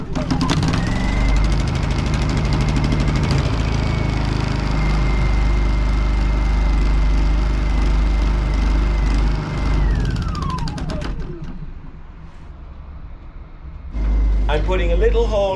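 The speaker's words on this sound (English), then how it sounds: "It's so cold that the generator thinks oil isn't circulating." A generator engine runs steadily in freezing cold, a loud close drone with a constant whine that drops in pitch as the engine winds down and stops, followed by a few seconds of quiet before another burst of noise.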